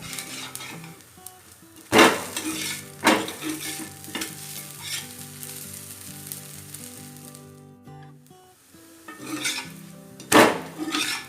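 A rice and lentil adai dosa frying on a pan with a soft continuous sizzle, broken by a few sharp metal spatula scrapes and clanks as it is turned.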